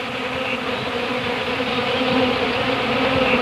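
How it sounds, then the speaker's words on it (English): Honeybees buzz densely around a hive, a steady close swarm drone holding level and alone throughout. "The bee brings the honey back to the hive."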